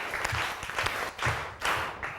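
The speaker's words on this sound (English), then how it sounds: "I'd like you all to give yourselves a clap or 3 for getting your pillowcases completed." A Grade 7 class claps together in short rhythmic bursts, a few quick rounds of applause in a classroom with no talking.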